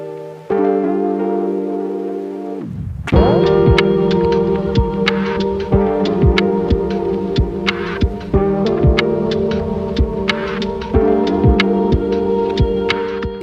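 Main engine of the cargo ship M V Enzian running inside its engine room: a loud, steady mechanical drone with a deep throbbing pulse and layered harmonic hum, plus repeated sharp clanks and ticks.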